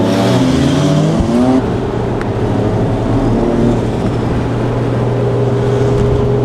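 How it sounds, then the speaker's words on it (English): A car with a newly fitted triple-plate clutch is being driven, giving a loud, continuous engine drone that stays close and steady throughout. "just been watching Josh in his new clutch. It's a triple plate O's Geigen."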